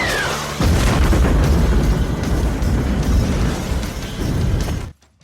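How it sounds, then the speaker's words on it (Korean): A rocket launcher fires in a movie scene, with a loud booming blast and sustained rumbling explosions that roll on for several seconds before cutting off abruptly. "심지어는 미친 파괴력을 자랑하는 로켓 런처까지 쏴 제낍니다."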